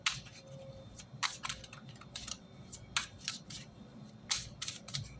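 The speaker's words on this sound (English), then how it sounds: "I'm just shuffling and shuffling and shuffling." A deck of cards is shuffled over and over, with crisp riffling bursts repeating in a steady rhythm, close up and alone.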